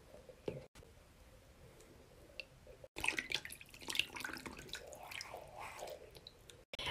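Confetti fidget balls being rinsed in a sink of water give wet squishing, sloshing and dripping sounds, quiet at first, then a busier stretch of splashing and handling up close.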